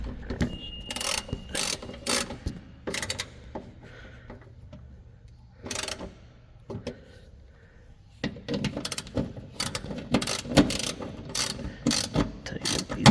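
A hand ratchet clicks in quick bursts while tightening bolts on a 1978 Ford Thunderbird, with pauses between strokes and occasional clunks of the tool close by.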